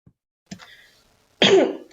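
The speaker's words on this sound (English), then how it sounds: "didn't mean to cough to introduce myself" A single sharp cough bursts out after a couple of faint, brief sounds, loud and close in an otherwise quiet space.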